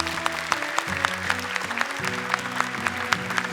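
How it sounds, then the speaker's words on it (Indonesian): Studio audience applauding on an Indonesian Quran-memorization TV contest, steady clapping with sharp peaks running throughout, while sustained musical tones play underneath. "Tepuk tangan dong untuk Azka"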